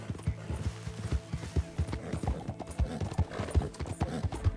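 A horse gallops in Red Dead Redemption 2, its hoofbeats pounding in a fast, steady rhythm close up, with a whinny breaking through the run.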